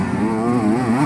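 A two-stroke MX2 motocross bike engine whines loudly nearby during a race, its pitch wavering up and down as the throttle rises and falls.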